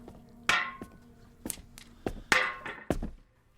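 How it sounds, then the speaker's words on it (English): Heavy metallic blows strike one after another at uneven intervals, each a loud clanging thunk with ringing decay as an old boiler is hammered apart in a basement, no voices. "breaking apart the old one to make way for the new."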